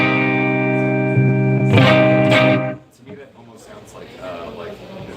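Fender Mustang electric guitar with a delay effect giving a rockabilly tone: a sustained ringing chord, a few bright strummed hits with echoing repeats, then a quieter decaying wash under faint background noise.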